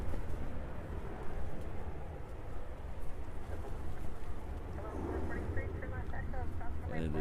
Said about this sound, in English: it is terribly gusty